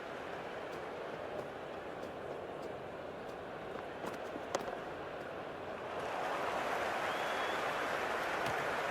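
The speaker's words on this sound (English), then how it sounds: "There's an almost tangible fervour throughout the crowd at the moment." Cheering from a cricket stadium crowd in the Cricket 26 video game during an India versus England one-day international forms a continuous hiss-like roar, with a few faint ticks, growing louder and fuller over the last few seconds.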